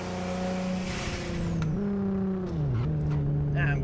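Car engine drone in the No Hesi driving game, a steady humming tone that dips and recovers as speed shifts, with a faint high turbo whistle sweeping above it, heard in a tunnel.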